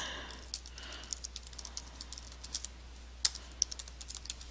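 Light, irregular clicks of typing on a computer keyboard, quick scattered keystrokes with a few sharper taps, close and fairly quiet, with no talking.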